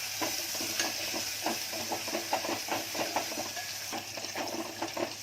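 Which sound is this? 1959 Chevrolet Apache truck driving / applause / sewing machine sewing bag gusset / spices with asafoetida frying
spices with asafoetida frying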